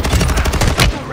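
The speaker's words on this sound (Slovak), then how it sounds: "Z hora ešte ma strieľa." Rapid automatic gunfire crackles close and loud in the Warzone 2.0 video game, a quick burst of shots about a second long.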